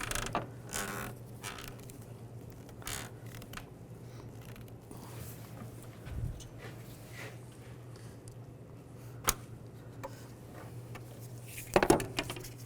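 A rubber hose is twisted and worked off the valve cover of a 2005-2015 Nissan Xterra, producing faint scattered creaks, squeaks and small clicks against a quiet background. The louder clicks come near the end.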